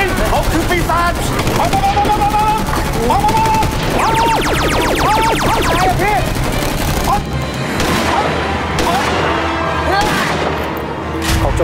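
Video game gunfire: fast automatic bursts and repeated shots, loud and dense, mixed with game music, creature cries and excited shouting voices over it.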